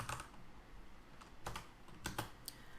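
Code being typed on a computer keyboard, a few quiet bursts of close key clicks separated by brief pauses, with no voice.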